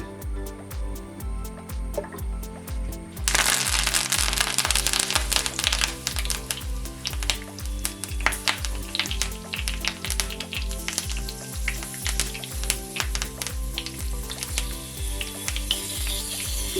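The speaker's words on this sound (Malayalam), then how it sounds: "പാൻ ചൂടായി നമുക്ക് ഇതിലോട്ടെ വെളിച്ചെണ്ണ ഒഴിച്ചു കൊടുക്കാം" Coconut oil hits a hot pan for frying fish and breaks into a sudden, steady, close sizzle that crackles on for many seconds under rhythmic background music.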